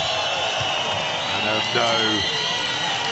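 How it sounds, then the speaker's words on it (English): A boxing arena crowd applauds and cheers Pulev after his fight with Chisora, a steady roar of crowd noise with a commentator talking over it. "as Pulev takes the applause"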